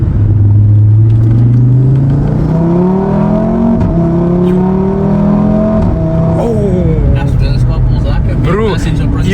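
An Audi RS3 with a stage 2 tuned gearbox pulls hard in second gear, its engine note rising steadily and loud from inside the cabin, the revs climbing before a quick shift near the end.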